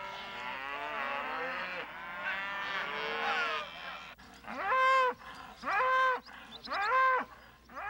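New calves and yearlings bawl and moo in a high country branding pen, several overlapping calls at first, then three loud separate moos close by, with no talking.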